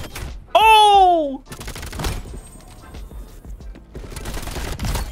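Rapid AK-74 gunfire in Call of Duty Modern Warfare: a loud, dense burst of shots followed by scattered distant game sounds and harmonic tones, with no speech.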